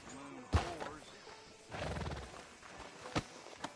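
Horse in Red Dead Redemption 2 in a town street outside a sheriff's office, with a couple of sharp hoof thuds and a snort or whinny-like burst among game sounds and voices.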